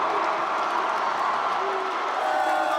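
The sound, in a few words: convention hall crowd cheering and applauding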